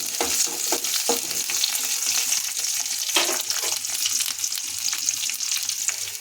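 Onions fry in a pan after mustard seeds have popped, giving a continuous, close sizzle broken by crackles and the scrape of stirring. There is no voice.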